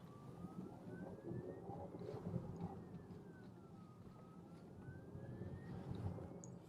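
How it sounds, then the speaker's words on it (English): Lucid Air Grand Touring electric car at low city speed, a faint electric motor whine rising and falling in pitch over a low road and cabin rumble. "there is a good amount of motor whine"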